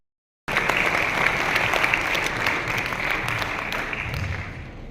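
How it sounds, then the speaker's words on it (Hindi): Loud, sustained applause from an audience at a Hindi literary programme and book launch, starting abruptly after a short silence and continuing steadily as dense clapping. "एक बार जोरदार तालियों के साथ आप मेरा सहयोग करें।"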